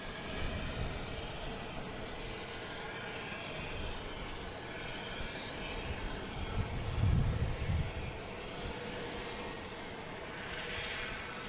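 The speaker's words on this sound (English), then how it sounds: "We got JetBlue here coming from San Francisco at A321 Neo," A JetBlue Airbus A321neo, flight 1534 from San Francisco, arriving at Boston Logan: a steady jet engine rumble with a brief louder swell partway through, then a sustained moderate roar.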